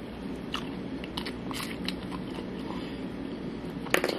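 Close, crisp crunching from bites into jumbo fried shrimp, several sharp crackly bursts with chewing between them and a louder crunch near the end.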